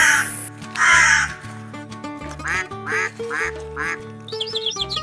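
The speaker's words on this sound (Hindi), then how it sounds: "जंगल में पक्षियों की आवाज गूंज रही थी।" Cartoon birds calling in a forest, loud cawing and quacking calls repeating in quick succession over a steady musical background, with chirpy notes near the end.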